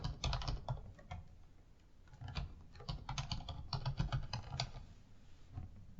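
Computer keyboard clattering as a password is typed and then retyped to confirm it, with dense runs of close, crisp keystrokes and a brief lull partway through.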